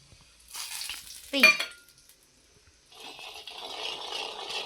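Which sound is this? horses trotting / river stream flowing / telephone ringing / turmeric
turmeric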